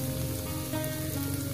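Masoor dal (red lentils) going into a hot pan of oil and tempering spices, a steady close sizzle and crackle that runs the whole time with no one speaking.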